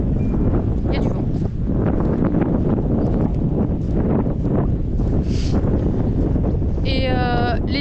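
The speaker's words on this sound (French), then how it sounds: "Il y a du vent." Strong wind buffeting a microphone outdoors on a walk, a constant loud roar filling the whole moment, with a faint brief tonal chirp near the end.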